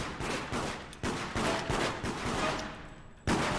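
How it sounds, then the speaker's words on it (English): Loud bursts of gunfire in the game Deceit, several rapid volleys with short gaps, close and harsh, ending in one last sharp shot after a brief lull. "while you two are shooting each other"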